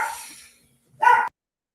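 A dog gives a short bark or two in a quiet indoor room, near and moderately loud, after an earlier burst of sound fades out, then silence follows.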